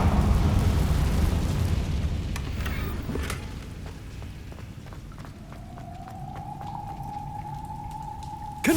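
A Confringo fire spell blasts in Hogwarts Legacy, opening with a loud, rumbling burst and several sharp crackling pops, then settling into a steady ringing tone that holds to the end.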